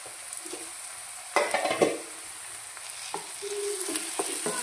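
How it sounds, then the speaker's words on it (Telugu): Onion and tomato pieces fry in a pan for a drumstick and dried fish curry, with a steady soft sizzle and occasional louder scraping stirs of a spoon, close and without speech. "బాగా ఫ్రై చేసుకోవాలండి"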